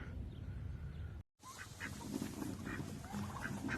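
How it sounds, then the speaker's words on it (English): Farmyard turkeys and chickens, a flock gobbling and clucking nearby with repeated honking calls, briefly interrupted by a cut before the calls resume steadily. "the turkeys and the chickens love tomatoes."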